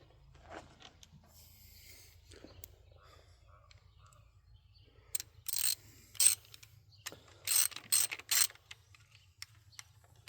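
Torque wrench clicking and ratcheting while tightening connecting-rod bolts to about 70 foot-pounds on a Buick 350 V8 engine, with several short sharp ratchet bursts clustered near the end over a quiet low background hum.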